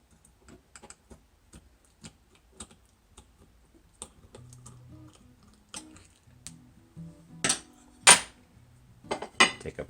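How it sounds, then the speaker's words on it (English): A butter knife is run around the inside edge of a glass jar of cranberry sauce, giving a sequence of light ticking and scraping clicks that grow into several louder clinks near the end. "I'm going to take a butter knife, run it around the edge like that."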